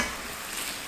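Black bean noodle sauce for jjajangmyeon bubbles and sizzles in a pan as it is stirred, a brief, dense, even hiss with no speech.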